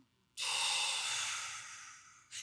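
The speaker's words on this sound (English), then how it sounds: "So you'll do a chill inhale through your nose." A single breath taken by a person practising a breathing drill: a long, steady airy rush that begins abruptly, slowly fades over about two seconds, then a brief second puff of air at the end.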